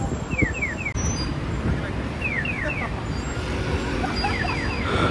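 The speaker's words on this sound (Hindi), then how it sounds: "तो यहाँ पे भी जापान जैसे ना वो चिड़िया जैसी आवाज़ आती है।" Repeated bird-like descending chirps in groups of three sound over constant street traffic noise on a busy Seoul road, fairly clear above the roar.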